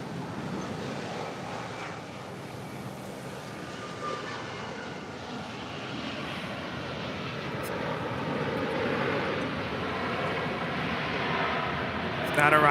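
A heavy jet airliner takes off from runway 7 left at LAX, its broad engine roar steady and loud, swelling gradually toward the end.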